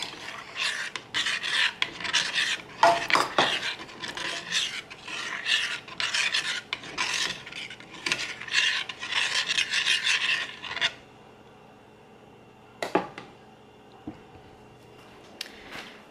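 Quick scraping and swishing of a utensil stirring egg whites into cream of rice in a bowl for about ten seconds, then quieter with a couple of isolated knocks.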